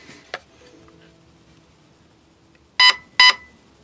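Two sharp electronic beeps in quick succession near the end, from a GATE Aster V2 device, preceded by a faint click and quiet background hum.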